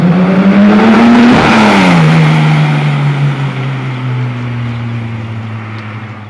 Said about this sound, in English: it blips the throttle on the down change